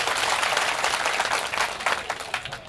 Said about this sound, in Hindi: जोरदार ताली आप बजाइए